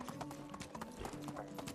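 A donkey ridden as a mount in Medieval Dynasty clip-clops at a steady walking pace, hoofbeats close and continuous under a low game ambience, with an occasional faint whinny-like sound.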